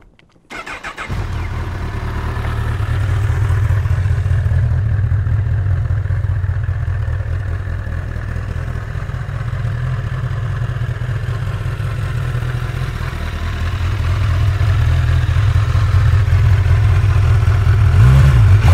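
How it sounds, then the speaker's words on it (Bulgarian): A Honda CB1000R Plus motorcycle engine starts and then drones steadily while being ridden, a loud continuous low rumble that swells slightly near the end. "краткото видео, което Бобсън записа като кара мотора, ще видите колко добре върви"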